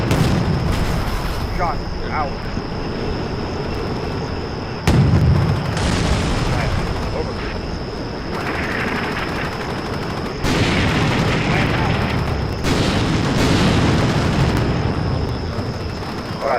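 Rocket explosions from Combat Mission: Shock Force 2 land as several sharp booms that decay into rumble, spaced a few seconds apart, loud against a constant high-pitched whine and battlefield background.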